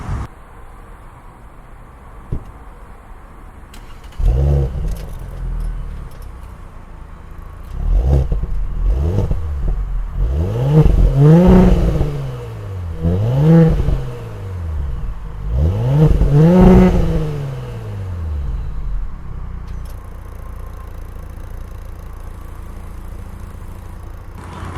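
A 2018 Audi S4 Prestige S-sport engine revs repeatedly up close, several rising and falling throttle blips over a steady idle, loud and alone.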